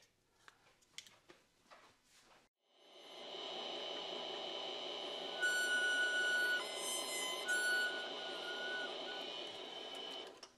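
Sustained whirring and grinding of a pinewood derby car wheel being polished, starting after a few faint knocks and holding steady and fairly loud to the end, with a brief high tonal whine partway through.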